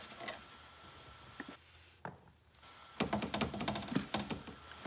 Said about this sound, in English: to get the motor out of there, you're going to want to remove the bolt to the upper left with a size 10 metric socket